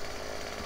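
A chainsaw in the video game Farming Simulator 15 runs for under a second at a steady, buzzing drone with no talking.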